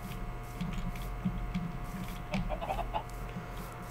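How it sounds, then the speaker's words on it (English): Chickens in a Minecraft modpack game cluck in short, soft, spaced calls over a steady low hum, with a quick cluster of higher clucks near the end. "Are any of these chickens laying eggs?"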